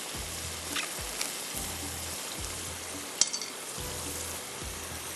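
Dry fruits frying in a pan for a Kashmiri chicken masala dish, a steady soft sizzle with occasional light scrapes and taps of a utensil, close and fairly quiet, no voices.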